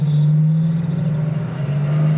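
Dodge Challenger with a fuel-injected Hemi V8 idling at about 1,000 RPM, a steady deep rumble close by with slight wavering, alone without talk.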